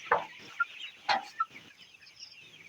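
A few large 31-day-old colour bird broiler chickens cluck in short, scattered bursts nearby, with quiet gaps between calls.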